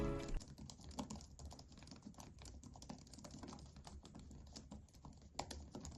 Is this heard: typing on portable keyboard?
yes